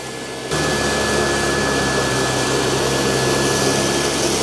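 A robot vacuum, an iRobot Roomba j7 or Dyson 360 Vis Nav, kicks on after a half-second lull and then runs with a steady, loud, close whirring hum and no breaks.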